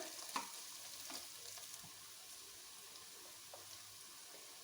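Sliced onions fry in a pan for a stuffed karela dish, giving a faint, steady crackling sizzle with a few soft clicks of stirring and no talking.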